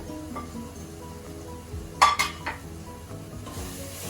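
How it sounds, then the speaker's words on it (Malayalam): Palak gosht with garam masala and chilli powder stirred in a pan, a few metal clinks of the spoon against the pan standing out from a low sizzle, close and with no talk. "നന്നായിട്ട് ഇളക്കി കൊടുക്കാം."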